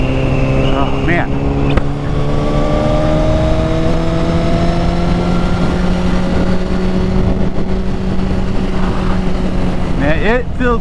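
A motorcycle engine on an open ride in cool weather, a loud continuous drone with steady harmonic tones and wind rush, shifting pitch slightly near the end.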